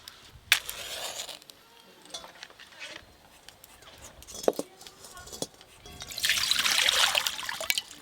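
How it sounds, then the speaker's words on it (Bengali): Masoor lentils are rinsed with water, trickling and sloshing in a bowl with light clinks, the splashing growing fuller toward the end while someone talks. "জল দিয়ে ভালো করে ধুয়ে নেবো ডালটা।"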